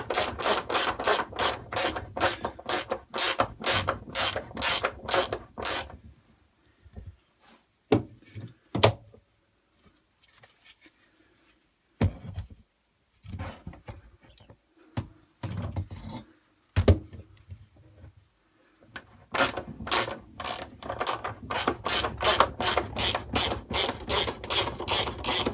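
A ratchet wrench tightens a bolt on a Honda GCV190 lawnmower engine in a Honda HRX 537 mower, long runs of rapid metallic clicks at the start and end with scattered knocks and pauses between.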